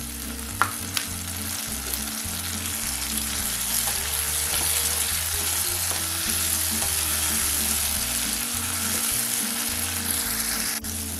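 Onions sauté in a pan with a continuous, close sizzle and occasional stirring scrapes, steady and moderately loud with no talking.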